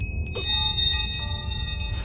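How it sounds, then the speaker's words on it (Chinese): A bell rings with clear, sustained metallic tones, several strikes overlapping and ringing on steadily, close and fairly loud with no talk. "是因为这铃声吗？"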